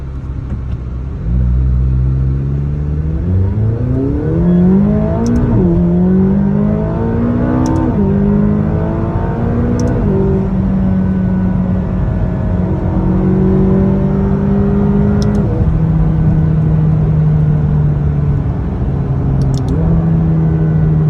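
A McLaren 570S sports car drives and accelerates. Its engine rises loud and close through repeated revving climbs with gear shifts, then settles into a steady drone before building again.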